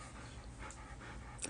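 A dog pants quickly and steadily up close for a brief moment, with soft breathy pulses over a low background hum.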